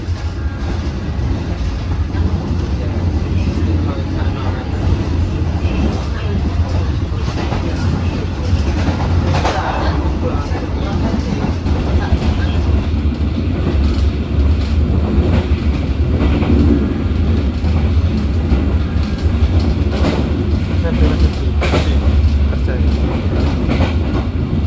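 A Commuter Line Supas train runs along the tracks, its loud, steady rumble and rattle carrying on throughout. A faint voice is audible under the noise.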